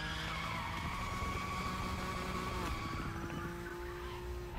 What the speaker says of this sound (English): Definitely getting a few cleaner drifts.